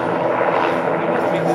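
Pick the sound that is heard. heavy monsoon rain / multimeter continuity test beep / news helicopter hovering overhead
news helicopter hovering overhead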